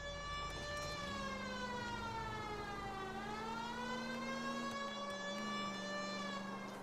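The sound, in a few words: police car siren in a video game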